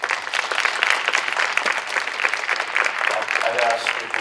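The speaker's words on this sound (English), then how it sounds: "I'd ask if we hold all applause" An audience at a Representative Town Meeting claps briskly after a speaker about Hamilton Avenue School, a steady, moderately loud patter of applause, while a voice near the end begins to speak.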